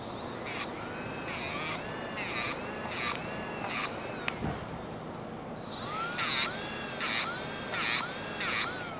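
Ford Super Duty brake pads are being ground down, with repeated short bursts of high, whining grinding in two groups, separated by a stretch of steady background noise and a single sharp knock.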